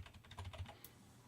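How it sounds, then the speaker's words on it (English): Soft, close clicks of computer keyboard keys, a few quick taps in a row at low volume. "We can just press 2 on the keyboard and we can bring up our erase tool."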